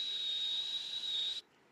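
A voice imitates a whistling firework set out on a street, holding one steady, piercing high whistle for over a second before cutting off abruptly into near quiet.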